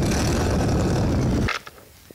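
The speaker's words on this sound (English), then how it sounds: "The exhaust note is very loud." Loud, rough exhaust roar from a modified 2018 Yamaha Ray ZR scooter being ridden, close and steady for about a second and a half, then cutting off sharply to a quieter idle with a few faint knocks.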